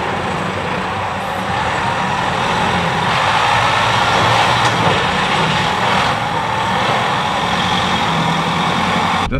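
A Unimog truck engine drives on an offroad course at the Unimog museum, a loud, steady diesel rumble that swells slightly while climbing and stays close throughout, with no voices.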